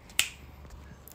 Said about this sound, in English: Ready wants a finger snap.